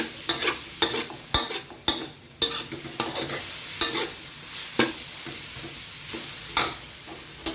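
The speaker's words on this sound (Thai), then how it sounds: "เดี๋ยวผัดให้แห้งอีกหน่อย" Minced pork with holy basil and shrimp stir-fried in a pan, a steady sizzle punctuated by repeated sharp scrapes and clanks of the spatula at an irregular rhythm, close and alone.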